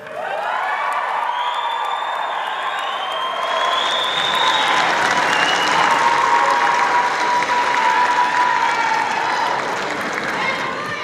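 A convocation audience at a 2022 Saskatchewan Polytechnic ceremony in Moose Jaw applauds and cheers for graduates, a dense sustained roar of clapping with whoops and voices mixed in.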